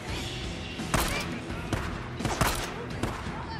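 Gunfire from a weapon in Days Gone on PS5, several sharp heavy shots at irregular intervals over a dense, noisy game mix with rumbling background, with a voice talking quietly underneath.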